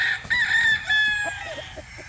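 A rooster crows loudly and close by in a gamefowl breeding and conditioning area, one drawn-out call breaking into shorter clucks, with faint background noise behind it.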